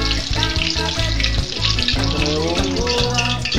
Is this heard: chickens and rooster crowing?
no